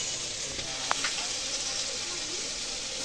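Onion frying in hot oil in a home kitchen, a soft steady sizzle with a brief clink near the start, close but fairly quiet and unbroken.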